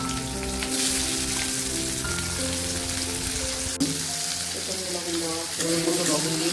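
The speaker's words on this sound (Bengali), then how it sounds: "মাছের তেলটা ভেজে নেওয়া হবে, সরষের তেলের মধ্যে পেঁয়াজ কুচি দিয়ে দেওয়া হলো" Chopped onion sizzles in hot mustard oil with a steady, dense crackle and fry hiss that holds evenly at close range, with a brief clatter partway through.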